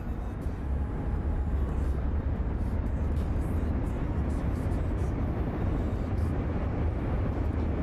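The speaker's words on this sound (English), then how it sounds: "we're gonna go ahead and throttle up and get in line" Simulated B-17 Flying Fortress engines in a flight sim game hold a loud, continuous low drone that swells slightly as the throttle comes up, steady throughout with faint talk beneath.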